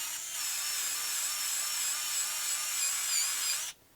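An electric drill spins a Lee brass case trimmer cutting a cartridge case, a steady high whirring whine held close and loud for several seconds before stopping abruptly.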